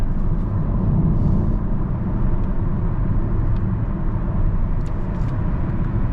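A Hyundai Tucson Hybrid 2023 with a 227 hp 1.6 turbo engine under full throttle on an extra-urban road, heard from inside as a loud, steady low-pitched drone and road roar that holds without a break.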